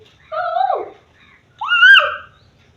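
Someone imitates a koel's call twice, two rising whistled hoots separated by a short pause, close and distinct.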